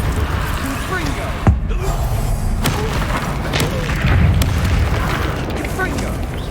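A Confringo blasting spell explodes in Hogwarts Legacy: a sharp booming burst stands out in the middle of a dense, loud game soundscape, with a voice shouting over the continuous combat noise.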